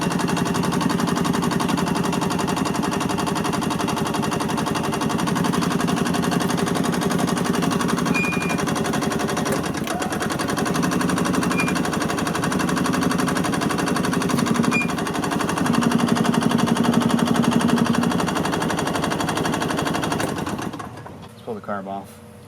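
A gas engine on a 1986 Yamaha G1 golf cart cranks without starting, a steady mechanical churning that runs close and loud for about twenty seconds and then cuts off abruptly near the end.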